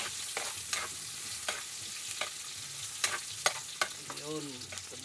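Hot cooking oil sizzles steadily while something is stirred for mussel sinigang, with soft scraping taps and crackles popping at irregular intervals, close and fairly quiet.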